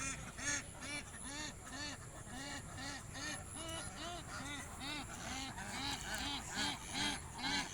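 Egg-laying ducks at their duck house quack loudly and nearby in a continuous overlapping chorus of rhythmic, repeated calls while they file into their shelter.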